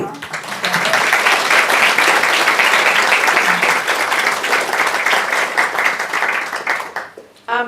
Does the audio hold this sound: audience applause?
yes